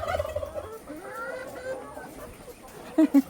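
Caged turkeys gobble and cluck at feeding time, close by, with the calls continuing and a few sharp, loud bursts near the end.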